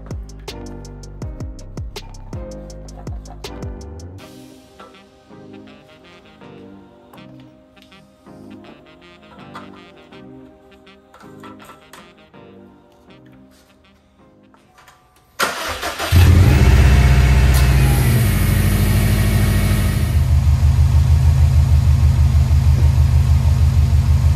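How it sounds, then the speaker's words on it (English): A 2015-2021 Subaru WRX STI engine cranks and catches at once, then settles into a loud, steady idle with a low rumble, after a stretch of quieter mechanical tapping. "start the car."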